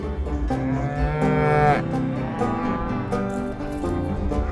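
Cattle at summer pasture mooing loudly and close, several long, overlapping lowing calls that fill the whole stretch with no talk.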